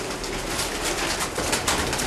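City pigeons coo softly in repeated low calls beneath a constant, dense wash of background noise.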